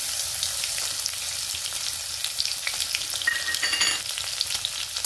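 Cumin seeds and crushed garlic sizzle steadily in hot oil, a constant close frying hiss with faint stirring scrapes and brief crackles, no talking.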